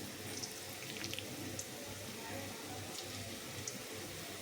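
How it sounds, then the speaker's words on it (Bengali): Jackfruit pakoras deep-frying in hot oil over a medium gas flame, a steady bubbling sizzle that runs without a break, close and moderately loud, with no voices. "এবার আমি এর মধ্যে পকোড়াগুলোকে একটা একটা করে ভেজে নেবো দিয়ে দিয়ে।"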